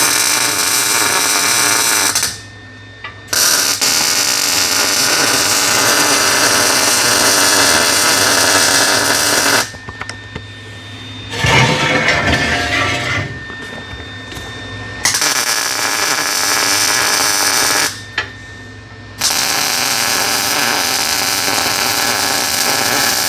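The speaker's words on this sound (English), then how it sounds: "I'll continue welding that up all the way around real nice and let her cool" Arc welder lays a bead on the steel of a custom flat-six engine run stand, giving a loud, steady crackling buzz in long runs. The runs are broken by short pauses and one rougher, sputtering stretch.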